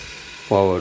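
A small electric motor on a school-level electromagnetic crane model drives forward, starting abruptly halfway through with a close, steady buzzing gear whine after near silence.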